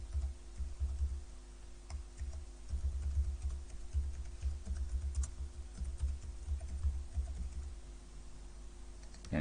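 Master password being typed on a computer keyboard, a steady run of soft, quick key taps close by over a low background hum, with no one speaking.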